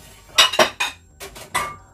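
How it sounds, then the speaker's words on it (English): Metal cutlery and dishes clink and knock in a home kitchen while stew peas are prepared, about six sharp taps in quick uneven bursts, close by and with no talk. "I'm going to cut up the stuff already"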